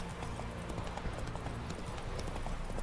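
Horse hooves clip-clopping at a steady riding pace in The Witcher 3 video game, a continuous rhythmic clatter of hoofbeats in the foreground with no voices.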